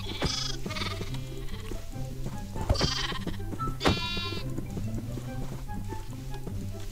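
Sheep bleating in the Minecraft video game, several short bleats standing out over steady game music and background sound effects, with no talking.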